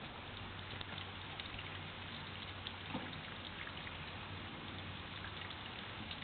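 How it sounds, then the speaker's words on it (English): Steady rain falls and patters on surfaces, a constant soft hiss with faint drips and no voices. "At least the rain's stopping."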